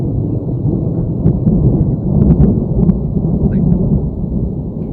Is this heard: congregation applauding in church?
no